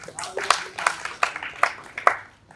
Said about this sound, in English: clap for everyone here because this was good